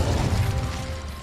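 An Incendio fire spell cast in Hogwarts Legacy bursts out as a heavy, low rumbling whoosh of flame, loud and close, fading slightly toward the end with no voice over it.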